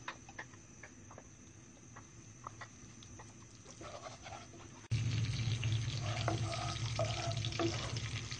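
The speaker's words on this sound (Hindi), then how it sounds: "दालचीनी, जीरा और मोटी इलायची हम डालेंगे। हल्का सा हम फ्राई करेंगे।" Cinnamon, cumin and black cardamom fry in ghee for achar gosht with a soft, steady sizzle that grows louder and denser partway through, with faint kitchen clatter around it.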